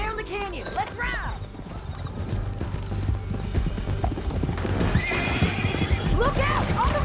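A horse in the video game Red Dead Redemption 2 whinnies loudly and close, with clip-clopping hooves running beneath, while voices shout over the action.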